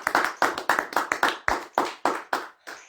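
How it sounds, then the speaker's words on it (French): A church congregation clapping together at a Sunday service, about ten loud, crisp claps in a steady rhythm, close and with no talking. "Acclamons pour la gloire de notre Dieu."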